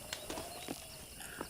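A horse's hooves clip-clop in the Red Dead Redemption video game, a faint steady walking rhythm of about five soft strikes.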